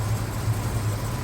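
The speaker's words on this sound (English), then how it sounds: "it's running excellent. Nice and smooth. Got that nice big block chug." A 1971 Dodge Charger R/T big-block V8 idles after sitting for months, giving a steady, loud low rumble with an even chug and no voices.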